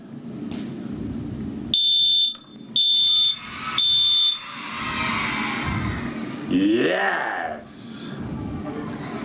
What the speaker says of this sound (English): is this the sound a smoke alarm makes?